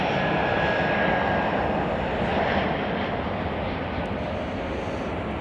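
Jet airliner engines roar steadily at Chicago O'Hare airport, a loud, continuous broadband rush with no talking, likely an Air China Cargo Boeing 777 freighter waiting to take off.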